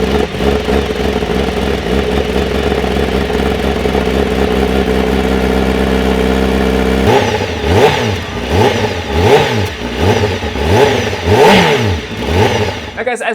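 A 2021 Honda Fireblade CBR1000RR-R SP superbike fitted with an Akrapovic exhaust idles steadily, then erupts into a series of sharp, loud revs rising and falling in quick succession, close by.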